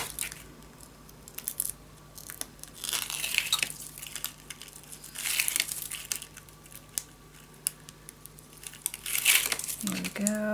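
Backing paper peeled off a piece for a Christmas scrapbook mini album, close crinkling and tearing bursts scattered through a quiet room, with a short clunk near the end.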